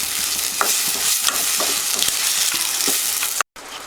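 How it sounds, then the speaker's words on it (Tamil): Tomatoes sautéing in a pan for vada curry give a steady, loud sizzle with repeated sharp scraping taps as they are stirred, then a brief dropout near the end before the sizzle resumes. "தக்காளி போட்டு கொஞ்சம் நல்லா வதக்கி விடுங்க."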